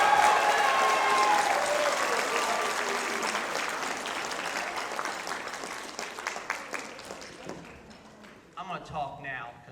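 An audience at a spring concert showcase breaks into loud sustained applause welcoming a performer to the stage, gradually thinning into scattered claps near the end.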